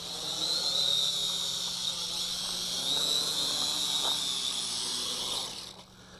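A Kaideng K70C Sky Warrior quadcopter drone comes in to land, its rotors giving a steady high-pitched buzzing whine that holds for several seconds, then cuts off abruptly as the motors stop.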